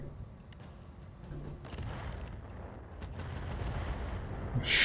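Mech weapons fire in Roguetech, a BattleTech mod, as a Blackjack opens up on a Javelin: a steady rumble of distant shots and impacts that builds to a louder burst at the end.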